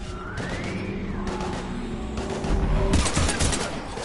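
Heavy gunfire in the video game Mass Effect 3 during a firefight against husks, a steady barrage of rapid shots that swells louder and denser partway through, with swooping sci-fi tones and rumbling impacts beneath.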